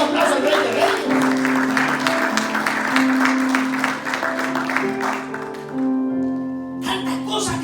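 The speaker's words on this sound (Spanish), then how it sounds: "denle un aplauso al Rey de Reyes." Congregation clapping in a church service, dense applause running under music with sustained keyboard or organ tones, fading toward the end as a voice comes in.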